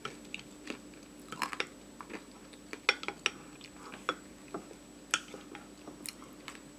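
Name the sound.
chewing crunchy cacao nibs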